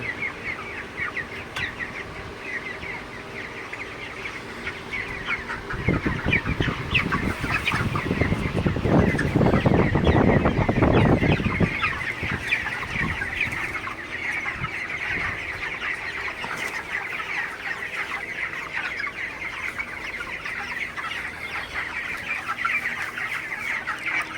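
Many broiler chickens, 28 days old, cluck and chatter continuously nearby, with a louder burst of overlapping clucking in the middle before settling back to steady background calls.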